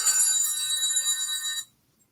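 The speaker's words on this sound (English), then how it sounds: "My phone rang." A mobile phone rings with a bright, high electronic ringtone trilling steadily for about a second and a half, close and fairly clear, then cuts off into silence.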